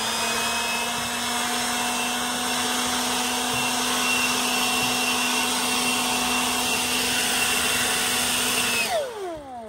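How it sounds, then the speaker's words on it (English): A power blower runs steadily and loud to clear sawdust off freshly cut log roof purlins on an Alaska log home build, with a constant whine that spins down at the end. "And I got to blow the sawdust off of here."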